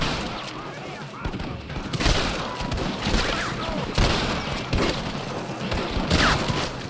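A dense, loud gunfight erupts in the Red Dead Redemption video game, with rapid overlapping gunshots and cracks in irregular volleys against snipers, alongside shouting voices.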